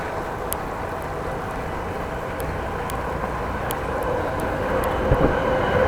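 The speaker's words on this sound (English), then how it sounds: "Train!" A train passes near a bike route through the Groningen harbour area in the Netherlands, a steady broad rumble with faint clicks, slowly growing louder toward the end.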